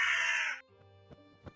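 A crow gives one loud, harsh caw up close, followed by a few faint clicks and soft knocks in an otherwise quiet space.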